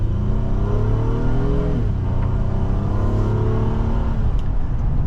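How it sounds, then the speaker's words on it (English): A 2025 Honda Pilot Trailsport AWD with a V6 and a 10-speed automatic accelerates in sport mode. A steady engine drone climbs in pitch, drops briefly at an upshift, then climbs again under constant road rumble. "let's go into the sport mode and test out the 10-speed with the V6"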